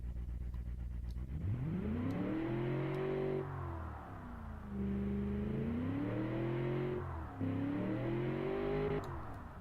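Simulated car engine running in the Automation car tycoon game, a steady burbling drone that rises and falls in pitch through several rev swells, loud and close, no talking.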